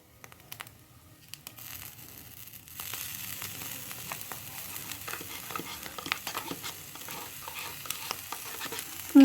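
Meat floss being stirred together with boiled carrots in a pan, a low continuous sizzle broken by scraping and rustling strokes that grow busier after the first few seconds, close and fairly quiet with no talk.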